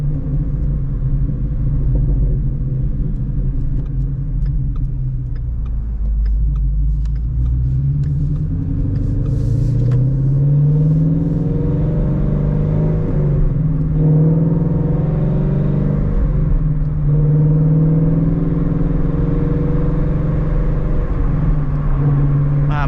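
A 2017 Ford Shelby GT350 engine rumbles loud and close through a night drive, rising and falling in pitch as revs climb and blip for rev-matched downshifts, a steady drone with swooping changes through the middle of the run.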